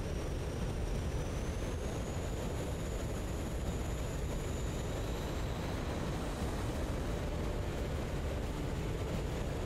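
F-15 jet taxiing on a flight line in the DCS World flight simulator: a steady, loud engine roar with a thin high whine that shifts slightly, continuous throughout with no talking.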